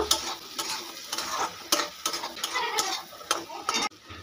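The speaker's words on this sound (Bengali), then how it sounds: "এবারে ভেজে রাখা আলুগুলোকে দিয়ে দেবো। আলুগুলোকে মশলার সঙ্গে মিশিয়ে নেব।" Fried potatoes stirred into a sizzling spice mixture in a pan for a dry spicy string bean and potato curry: continuous close frying hiss with quick repeated scraping strokes, ending abruptly, no voices.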